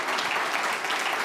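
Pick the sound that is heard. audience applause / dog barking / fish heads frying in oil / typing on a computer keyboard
audience applause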